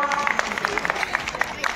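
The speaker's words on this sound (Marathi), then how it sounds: "वा वा वा, टाळ्या वाजवा." An audience claps at a women's day gathering held at a temple, a short patter of scattered applause with a voice running over it.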